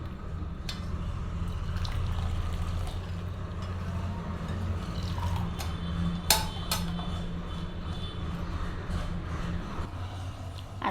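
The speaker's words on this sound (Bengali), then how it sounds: "কাপে কাপে ঢেলে নেবে।" Jaggery tea is poured from a pot into cups, a soft steady liquid trickle with light clinks of cups and utensils, close by, with no talking.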